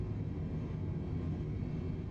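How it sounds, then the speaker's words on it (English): Simulated airliner engines hold takeoff thrust in Microsoft Flight Simulator 2020, a steady, fairly faint broadband roar with a low droning hum and no voices. "Takeoff thrust is set."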